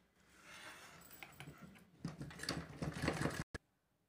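A sewing machine stitches a small fabric school stationery pouch, running with a quiet, steady whir for a few seconds, then a faster, busier burst before stopping abruptly, heard up close.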